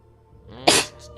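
A single close, loud sneeze with a sharp burst of breath, followed moments later by the start of a second one.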